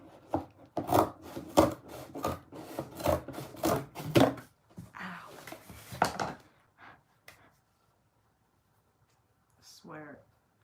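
Cardboard box flaps being cut off by hand, heard as a quick run of close, scratchy, rasping strokes that then thin out into scattered softer scrapes, with a brief voice-like sound near the end.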